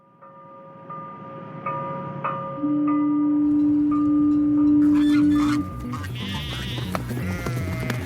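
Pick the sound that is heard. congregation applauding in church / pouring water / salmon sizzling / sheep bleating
sheep bleating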